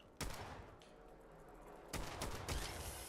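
Pistol gunfire in a retro-style video game crackles in short bursts, a sharp shot early on followed by a cluster of rapid reports near the end, fairly faint with no talk.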